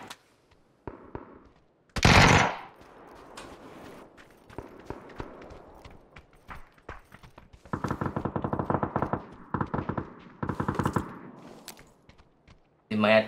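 Gunfire in PUBG: a sharp single shot, then scattered pops and several rapid automatic bursts in quick succession, mixed with footsteps and game noise.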